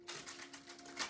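Tarot cards are shuffled close up in a quick flurry of soft rapid clicks and riffles, quiet and unaccompanied.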